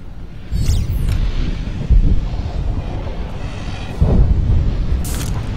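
Imperial bombers in Star Wars: The Old Republic strafing, with deep booming blasts under roaring wind-like rumble, two heavier impacts standing out, no talk.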